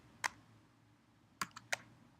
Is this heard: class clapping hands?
no